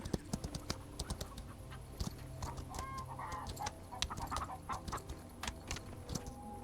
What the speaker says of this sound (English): there's just like little baby chickens everywhere